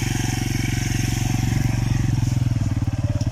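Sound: motorcycle riding slowly through slippery clay mud

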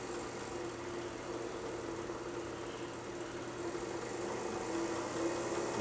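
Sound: watchmaker lathe motor running

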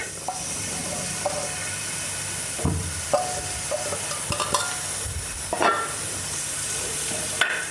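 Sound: chopped onions frying in oil in an uruli

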